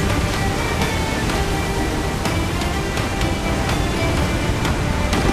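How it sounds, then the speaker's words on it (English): Stormy open sea in Assassin's Creed IV Black Flag, with a waterspout churning nearby: a steady, loud roar of wind and crashing surf fills the whole stretch, with intermittent sharper splashes breaking through. "Water spout!"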